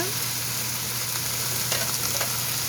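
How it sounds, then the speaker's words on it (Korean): Zucchini and cabbage stir-fried together in a pan for a pollock-roe, mussel and vegetable rosé pasta, giving a steady close sizzle with a few soft scraping stirs and a constant low hum underneath. "같이 볶고 이번에는 애호박과 양배추를 넣어서 함께 볶아줍니다"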